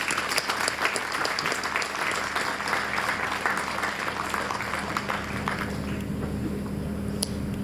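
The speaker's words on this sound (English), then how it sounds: "Can I have a round of applause for Sharon," An audience applauds a speaker at a Relay For Life community event in Bunbury, sustained steady clapping from a crowd that carries on for several seconds before starting to thin out near the end.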